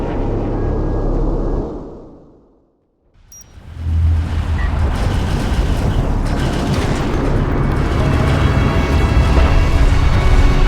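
Weapon fire in the strategy game Homeworld: Deserts of Kharak, a loud rumbling barrage after a brief silent gap, dense crackling and booming battle noise that runs on continuously without talk.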